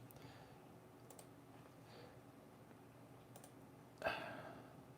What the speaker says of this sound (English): So much clicking and clacking.